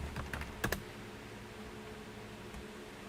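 A password typed on a computer keyboard: a quick cluster of soft key clicks at the start, then near quiet with one faint tap, close and low in level.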